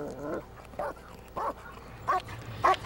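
A dog barking during Schutzhund protection training, giving five short, separate barks at a steady pace, moderately loud and fairly close, with faint background noise and no talk over them.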